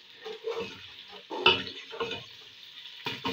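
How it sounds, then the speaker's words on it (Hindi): Garam masala spice paste sizzles and fries in a pot, with a few stirring scrapes and clatters breaking through the steady crackle, close and moderately loud. "तब तक ये मसाला जो है ये फ्राई हो जाएगा"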